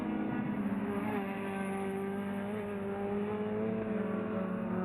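Race cars, among them a BMW 323i, in a NASA Championships PT race on Toyo Tires, drone steadily as they head down into Thunder Valley, one continuous engine note held for several seconds with no talk.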